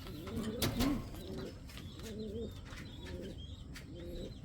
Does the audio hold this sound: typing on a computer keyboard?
no